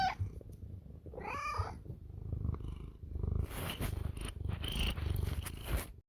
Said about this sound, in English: we've got to hear one of his many kitties